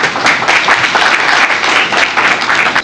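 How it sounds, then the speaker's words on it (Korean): Audience applause greets a young inventor called to the stage at an idea-startup forum, a dense, loud, steady wash of clapping that holds throughout without pause. "박수 부탁드릴게요."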